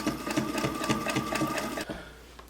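A Singer Featherweight sewing machine stitches through quilt layers with batting, a fast, even mechanical whirr of close needle strokes that runs steadily for about two seconds, then stops abruptly.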